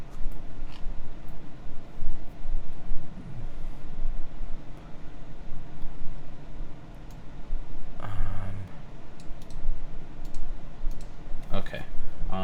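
Keyboard parts rattle and click as Cherry MX Brown switches are installed, with scattered small clicks and plastic handling noises over a steady hiss and a few louder clatters near the end.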